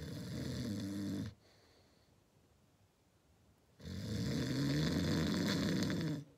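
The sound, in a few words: person imitating a fake snore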